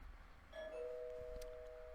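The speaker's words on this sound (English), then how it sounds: "Ding dong, that must be him." A doorbell chimes once in the game Angels With Scaly Wings, a clean two-tone ding-dong that rings on and sustains clearly with no talk over it.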